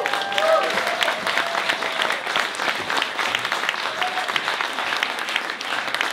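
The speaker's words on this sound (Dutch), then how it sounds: "En dan wil ik graag een hartelijk applaus voor onze band" Concert audience at Paradiso in Amsterdam gives warm applause for a Greek rebetika band at a benefit concert, steady loud clapping throughout with a few faint voices and brief tonal sounds in the background.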